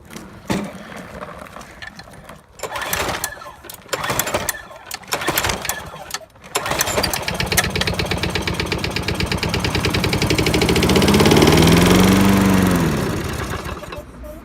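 7HP Craftsman lawnmower engine cranked with a pull-start: several rattling pulls, then the engine catches and runs in a fast, loud putter that swells and fades out after a few seconds.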